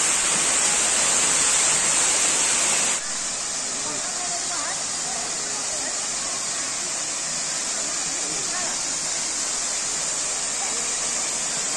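Waterfall roar heard as a steady hiss of falling water, louder for the first few seconds and then settling to a constant, slightly softer rush that continues to the end.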